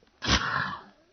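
One sudden, sharp sneeze triggered by sunlight outdoors on a volcano, loud and close, bursting out and fading within a second.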